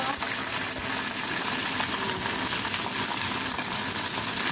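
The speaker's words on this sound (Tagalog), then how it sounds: "pratuhin ko rin ang okra" Okra frying in hot oil in a pan, a loud, continuous crackling sizzle that stays even and close throughout without pause.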